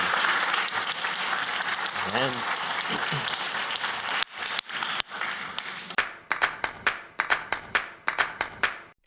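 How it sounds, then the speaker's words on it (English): Audience applause after a panel discussion at a circular economy festival, dense clapping at first that thins into scattered individual claps; a voice speaks briefly over it. "So big round of applause for all of you."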